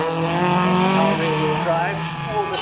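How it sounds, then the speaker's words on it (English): Mazda RX-8 rear-wheel-drive rally car driving fast on a stage at Cadwell Park, its engine note loud and sustained with rising and falling revs, a commentator talking over it throughout. "Mazda RX-8 out. So that's an interesting car."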